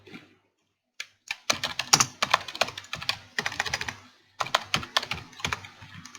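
Computer keyboard keys clatter in quick bursts of typing and shortcut presses, close and fairly quiet, with a short pause between clusters and no talk.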